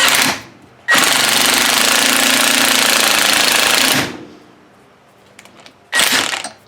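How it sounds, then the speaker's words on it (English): An impact wrench tightens hardware on a 2022 Toyota Tundra during a Rough Country 3.5-inch lift kit install, with a loud, close three-second rattling burst followed by a brief second burst after a pause. "provided you have an impact wrench"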